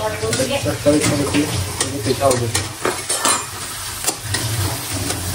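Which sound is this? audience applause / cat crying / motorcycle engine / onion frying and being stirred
onion frying and being stirred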